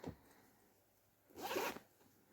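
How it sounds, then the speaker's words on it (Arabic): A zipper on winter pajamas is pulled in one quick, loud rasping stroke, close by, after a faint tug at the start; no voices. "ده بسوستة كده بالشكل ده"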